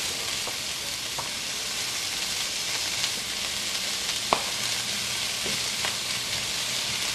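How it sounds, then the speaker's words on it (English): Fresh seasonal vegetables stir-fry over raised heat for udon, a steady loud sizzle with a few faint taps and scrapes of stirring, no voices present. "I would add just all this in and stir fry it"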